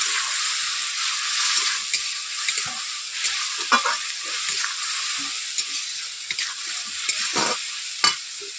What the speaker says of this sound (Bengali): এগুলোকে নাড়িয়ে টাড়িয়ে ভালো করে আমি কষিয়ে নিচ্ছি